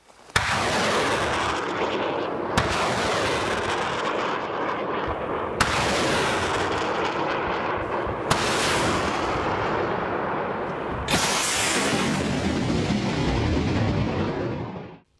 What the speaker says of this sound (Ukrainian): І наостанок ми покажемо, як стріляє град у темряві.